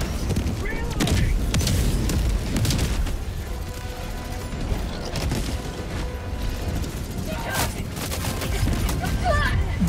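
Machine gun sentry turrets and a guard dog drone fire in Helldivers 2, with dense sustained bursts of automatic gunfire and scattered booms that run for the whole stretch, with voices talking over the shooting.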